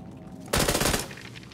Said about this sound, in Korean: 총소리 들렸어